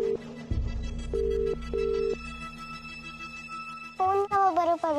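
A phone rings again after a call is redialed, a couple of short electronic ring tones with a low hum beneath, followed by a brief voice near the end.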